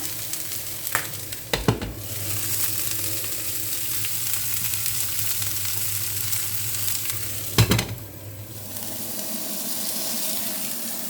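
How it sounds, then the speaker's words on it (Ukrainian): Cabbage fries steadily in a hot pan with a constant bright hiss, broken by a couple of brief utensil clatters as it is stirred, outdoors. "Так, капусточка смажиться."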